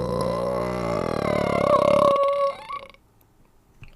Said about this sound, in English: get ready for burp time